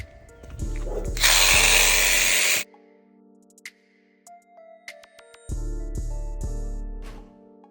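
A power tool on 10mm truck bumper bolts, heard close and loud: a sustained whirring burst with a hissing high edge, a pause with small clanks and taps, then a second long run.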